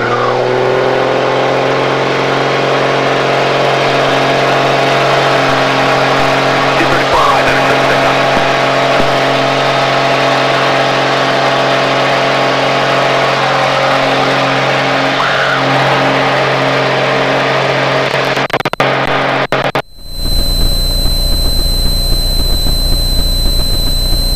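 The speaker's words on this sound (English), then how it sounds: "Takeoff. Alright, sir, here we go. 300 horsepower." A 300-horsepower piston engine on a small aerobatic airplane at takeoff drones loud and steady with strong harmonic tones, holding near-constant power for about twenty seconds before cutting abruptly to a quieter, hissing cabin tone.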